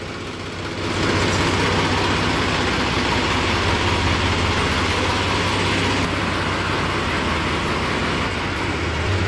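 A farm tractor engine starts up and runs with a loud, steady, rough roar close by, continuing unbroken while a field is prepared and a trolley is washed.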